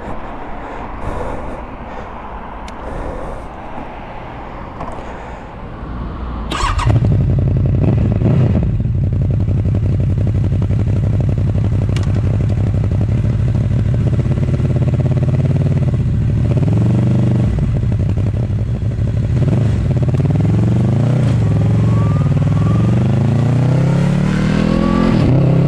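A Honda VFR800F motorcycle fitted with an SC Project Conic exhaust starts after a quiet stretch, then rides on with a loud, steady engine drone. The pitch rises and falls repeatedly through the gears while accelerating, with no speech.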